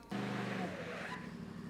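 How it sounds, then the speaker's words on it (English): A Polaris RZR Pro XP fitted with FOX RC2 shocks is driven back and forth, its engine surging in a short burst and then settling into a lower drone. Faint voices sit underneath. "You must drive the car back and forth a couple of times, making sure to hit the brake and the accelerator to settle the suspension"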